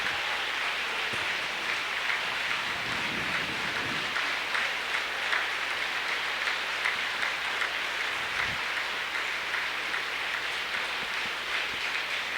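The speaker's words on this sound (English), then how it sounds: "and you hear the crowd." A crowd at a regional wrestling tournament keeps up a sustained wash of cheering and applause in a large gym, dense and even for the whole stretch, with a few louder swells.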